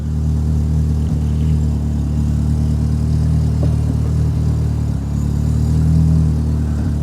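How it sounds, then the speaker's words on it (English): A four-cylinder inline car engine idles steadily nearby with a low, even rumble and faint mechanical clatter, running continuously with no talking. "Listen to the sweet sound of a four-cylinder inline engine"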